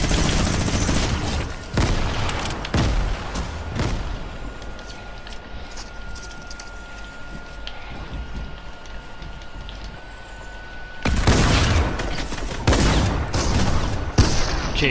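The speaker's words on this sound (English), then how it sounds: "A shotgun, holy shit." Shotgun blasts and other gunfire fill a Fortnite match, with loud, dense volleys at the start, a quieter stretch with a faint steady tone in the middle, then another heavy burst of close shots near the end.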